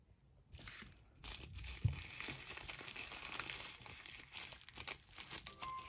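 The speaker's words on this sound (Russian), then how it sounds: "Давайте теперь откроем маленькие пакетики." Small plastic packets of Wednesday-themed stickers from an AliExpress parcel are opened up close, with crinkling and crackling plastic. The sound is faint and irregular, with no talk.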